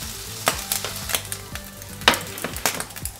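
Asparagus sizzles in a frying pan with melting butter, a close, continuous crackle with sharp pops and occasional spatula scrapes against the pan, and no one talking.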